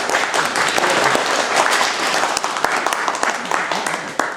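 Members of a district council session in Brovary, Kyiv region, applaud. Sharp individual claps stand out from a rippling group patter, mixed with people talking over the clapping.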